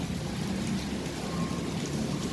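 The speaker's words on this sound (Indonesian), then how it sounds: "keadaan Pelabuhan Merak hujan" Steady rain falls at Merak harbour on a calm morning, a dense even hiss that runs unbroken through the whole stretch with no wind and no voices.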